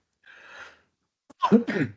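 A short breathy sound followed by a single harsh, throaty cough from a person with a cold, close and alone, lasting under a second.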